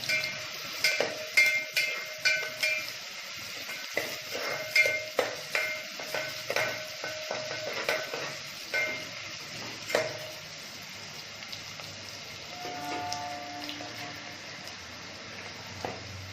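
Finely chopped onion being sautéed for a Konkan-style sprouted val bean birde gives a soft, continuous sizzle, broken by repeated sharp clinks of a spatula against the pan, fairly close and mostly steady.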